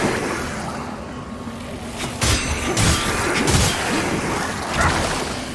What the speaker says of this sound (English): Oh, okay, that has some explosion